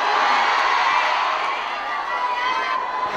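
A large crowd of fans roars and screams at a Japanese concert showcase by a Korean singer, a loud sustained wall of high-pitched cheering that holds without pause.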